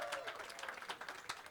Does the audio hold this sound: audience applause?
yes